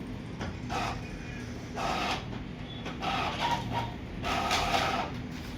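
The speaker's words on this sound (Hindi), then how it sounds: "दोबारा यहाँ पर प्रिंट आउट निकल रहा है क्योंकि वहाँ पे जगह चेंज नहीं हुई थी ना, तो अभी दोबारा प्रिंट आउट निकाल रहे हैं" A printer runs out a tattoo design printout, its mechanism whirring and buzzing in repeated passes of roughly a second each, steady and close, with a low hum underneath.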